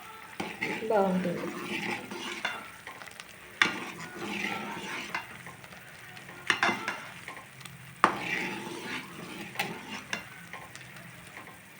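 A pot of fish head pulusu simmers and sizzles on the stove with a soft bubbling hiss, broken by occasional clinks and scrapes of stirring. A voice speaks briefly over it.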